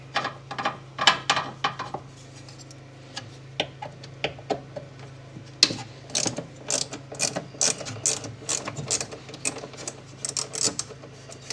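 A small socket bit ratchet working on the fuel pump assembly screws of an Arctic Cat Prowler, rapid close clicking in short bursts with pauses, over a low steady hum.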